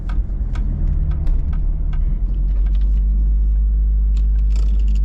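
A Toyota 86 engine idles with a low steady rumble as the car is driven out of a barn, with scattered scrapes and clicks early on, then a deep constant drone building up close by.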